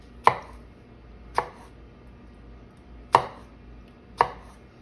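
Four crisp knife strokes slicing strawberries thinly on a cutting board, each a sharp close tap, spaced irregularly with quiet in between.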